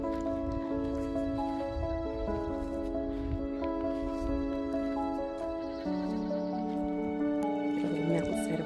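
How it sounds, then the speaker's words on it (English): Goats bleat on a mountainside homestead by a river, their calls blending into a steady, busy backdrop of other farm animals and sound with no clear pause. "Goats."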